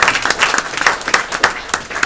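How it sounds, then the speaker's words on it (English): A crowd at a corporate training event claps in a lively, loud round of applause, with individual hand claps standing out in a rapid, uneven rhythm close to the listener. "can we give this man a round of applause?"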